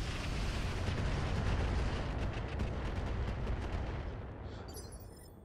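Mech weapons firing in the RogueTech BattleTech game, a loud sustained barrage of booming blasts and rapid crackling impacts that slowly tails off toward the end, with no talk.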